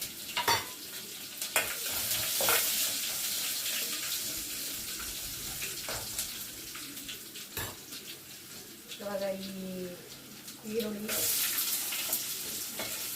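Garlic and onion frying in a pan, with a soft, steady sizzle under occasional stirring scrapes and knocks of a utensil, plus a few brief louder clatters and some background noise.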